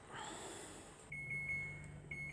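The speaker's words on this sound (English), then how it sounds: "that's the buzzer going off" A freezer's electronic buzzer sounds a steady, sustained tone, starting partway through and continuing with a brief break, over faint background hum.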